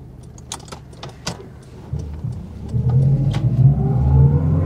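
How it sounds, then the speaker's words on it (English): A Saab 96 with its V4 engine and very low gearing revs up, the engine note building and rising from about halfway through after some clunks and clicks at the start, fairly close and steady to the end. "the gearing's very low, so you could kind of find yourself having to change gear quite soon"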